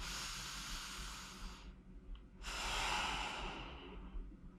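A deep, slow breath during a gentle chair workout, a long airy exhale, then a brief pause before a strong inhale, loud and close with no talking.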